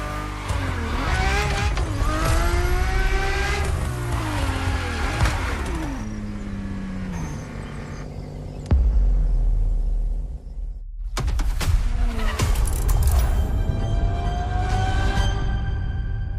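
A Ferrari driven in The Crew Motorfest racing game: a loud, sustained engine roar that rises and falls through the gears, with a short drop near the middle before the engine pulls hard again.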